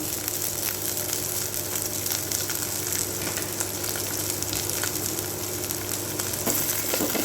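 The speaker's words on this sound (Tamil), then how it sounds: "ஆயில் ஊற்றிக்கலாங்க கருவேப்பிலை கொஞ்சம் ஆட் பண்ணிக்கலாம்" Curry leaves crackling in hot oil for a South Indian brinjal gravy, a steady, dense sizzle with fine popping that runs loud and close throughout, with no talking.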